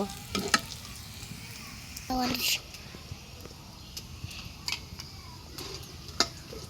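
Chicken pieces frying in a pan with a steady low sizzle, punctuated by several sharp scraping clicks of stirring, while a person talks intermittently over the cooking.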